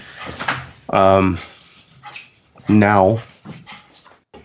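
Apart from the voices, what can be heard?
dog whimpering and yipping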